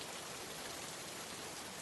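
Heavy rain pours down in a dense, unbroken hiss, steady and full, with no break or voice over the continuous wash of water.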